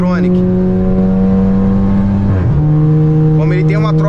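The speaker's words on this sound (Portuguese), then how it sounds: "Como ele tem uma troca rápida de marcha, se traduz no prá, prá." Volkswagen Jetta 1.4 TSI with a Tiptronic automatic accelerating hard, its engine note climbing loud and close, then a brief dip at a quick upshift before it climbs again, heard from inside with a voice over the engine.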